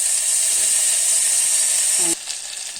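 Steady, bright sizzle of hot oil in a pan holding onion and coriander for a potato bhaji, loud and continuous before it suddenly drops to a softer hiss near the end.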